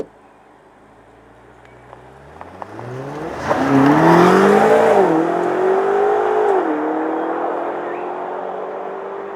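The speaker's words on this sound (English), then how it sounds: "Okay, driving the BMW XM." A BMW XM idles quietly, then its engine revs up sharply as it accelerates, the tone climbing and shifting through gears into a loud, sustained drive with steady road roar.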